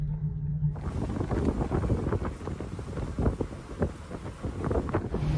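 Boat underway after leaving an anchorage at Church Creek, South Carolina, on the ICW: heavy buffeting wind noise across the microphone over a low engine and water rush, steady and loud with no talk.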